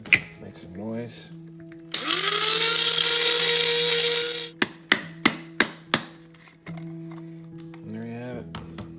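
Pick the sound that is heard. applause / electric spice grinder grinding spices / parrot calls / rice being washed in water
electric spice grinder grinding spices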